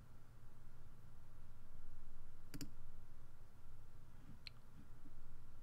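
A computer mouse clicks twice in quick succession at a desk, close and crisp over a low steady room hum, followed a couple of seconds later by a single fainter click.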